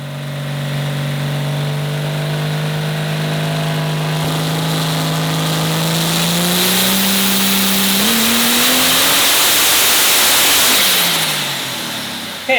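A 3000+ horsepower diesel engine on a dynamometer, loud and close, holding a steady roar before climbing sharply in pitch as it revs up through the run, then fading slightly at the end.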